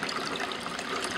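Water pours steadily down a short aquarium overflow standpipe into its drain, a constant rushing trickle with no pause, close and moderately loud.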